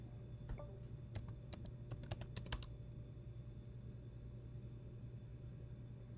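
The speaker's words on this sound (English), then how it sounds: "I'm typing enter." Keystrokes on a computer keyboard during a card game, a quick burst of sharp clicks clustered early, then stopping, over a steady low room hum.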